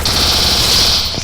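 Rapid automatic gunfire bursts out in the Free Fire battle game, a loud, dense stream of shots with a bright ringing edge, lasting about a second before cutting off.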